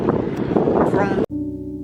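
Strong wind in Oslo buffets the microphone in a loud, rough roar, cutting out abruptly near the end before a quieter hum returns.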